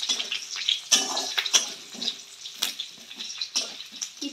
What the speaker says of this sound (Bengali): এটা একটুখানি ভাজা ভাজা হয়ে যাক।